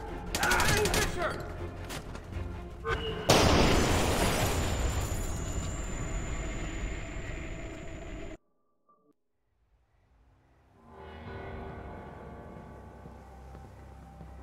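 A frag grenade blast and gunfire in the stealth shooter Splinter Cell Conviction: loud, dense bursts of shots and booms fill the first eight seconds, then the sound cuts to near silence before quieter game ambience returns, with voices speaking in parts.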